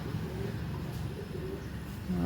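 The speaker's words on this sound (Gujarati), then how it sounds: "અત્યારમાં જો મમ્મી ચણ નાખે છે એટલે હમણાં બધા કબૂતર આવશે" Pigeons gather at scattered grain outdoors during a rainy spell, giving low, steady cooing throughout amid a continuous background wash.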